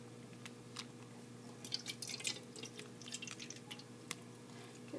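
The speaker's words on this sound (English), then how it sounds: "we're going to pour the water into the cup through the net to catch him" Aquarium water is poured from a bag through a fish net into a cup during fish acclimation, giving faint trickling and dripping over a quiet steady hum.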